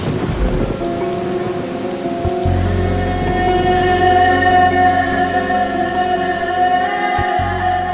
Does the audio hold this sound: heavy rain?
yes